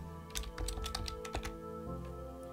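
Quick bursts of keystrokes clatter on a computer keyboard, a run of close, crisp clicks over a steady low hum, then a few lighter taps as the typing trails off.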